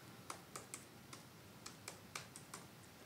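Password keystrokes on a computer keyboard, about ten quiet, close clicks tapped at an uneven pace over a low, steady room hiss with no talking.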